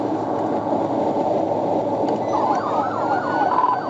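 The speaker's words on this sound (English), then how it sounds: "activate emergency lights and siren, initiating a pursuit" A police siren on a pursuing trooper's car in Oklahoma wails, rising out of steady road and engine rumble partway through, its pitch sweeping up and down as it grows louder.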